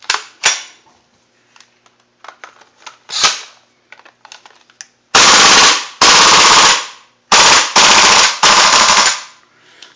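King Arms GHK gas blowback airsoft rifle firing, a few scattered single pops and clicks at first, then several loud rapid bursts of sharp mechanical cracks up close.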